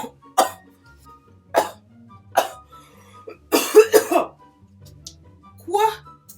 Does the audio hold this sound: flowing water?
no